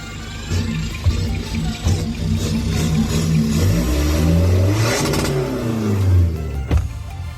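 A remapped 1900 diesel pickup engine is held at high revs and hits the limiter several times, giving a loud, close, droning roar that repeatedly rises and drops in pitch as the rev cut stutters in.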